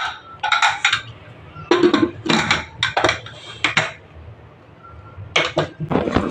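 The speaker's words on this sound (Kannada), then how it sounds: "ಕುಕ್ಕರ್ನ ಕ್ಲೋಸ್ ಮಾಡಿ ಬೇಯೋದು ಕೂಡ ಇಟ್ಟೆ." A pressure cooker lid being closed on lentils cooked with turmeric, heard as a series of sharp metallic clinks and clatters in irregular bursts, close by, with short quiet gaps between them.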